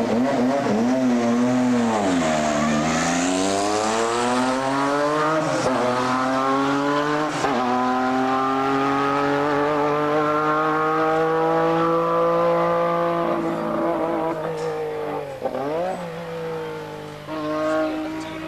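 Formula One race car engine at Brands Hatch, a loud high-pitched howl rising and falling through gear changes as it accelerates and passes, continuous and close for most of the stretch.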